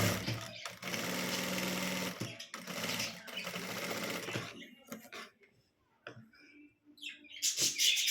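A sewing machine stitches a blouse in two quick bursts of rapid whirring, then stops for soft handling noises before a brief final run, with faint chirps in the background.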